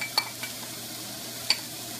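Diced onion and minced garlic in a pan, a quiet sizzle under two sharp metallic taps of a utensil against the pan.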